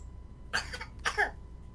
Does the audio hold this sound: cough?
yes